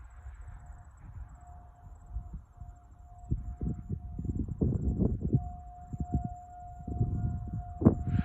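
A distant 2001-model tornado siren sounds during a test in Memphis. It holds a faint, steady wail over heavy outdoor wind rumble.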